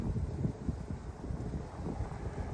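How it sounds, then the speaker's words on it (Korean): Strong wind blows across an open reservoir valley near an otter habitat in Gokseong, buffeting the microphone with a constant, rough low rumble and no voices. "바람이 세게 부는데"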